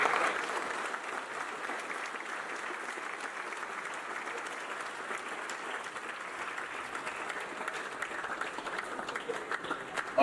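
Audience applauding at a leadership talk at a cadet college, continuous dense clapping from a large crowd, steady and moderately distant, with faint voices underneath.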